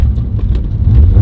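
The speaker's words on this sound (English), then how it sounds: "I kinda need to redline it, because that's how you clear out all the carbon deposits and make it not yucky in the motor" A Mazda RX7 FC engine revved hard toward redline, a loud, close, continuous low rumble that holds steady and swells slightly toward the end of the brief burst.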